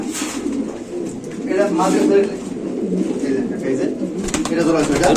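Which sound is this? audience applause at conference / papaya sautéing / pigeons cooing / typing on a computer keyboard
pigeons cooing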